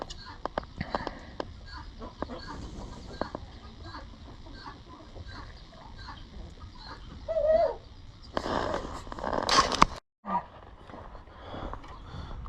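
Chickens clucking inside a farm chicken coop, scattered soft clucks and short calls at close range, with a few louder squawks and rustling bursts toward the end.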